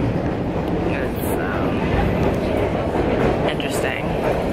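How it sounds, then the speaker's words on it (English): Boston commuter rail train ride heard from inside the car: a steady, loud rumble and hiss of wheels on track, with faint squeaks and muffled voices in the background. "I'm going to take the train all the way down to City Hall"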